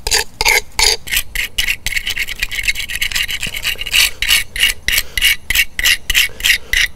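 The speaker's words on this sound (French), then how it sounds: "le grattoir lui me permettra d'aller dans la finition" A fine, hard hand scraper blade rasps moss off a surface, a run of quick, gritty close strokes in an uneven rhythm with no voices.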